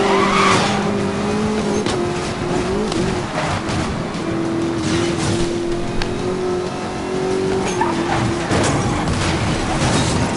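A small car races off-road in Need for Speed Most Wanted, its engine droning at a steady strained pitch with tire scrubs and thumps over a loud, continuous game mix.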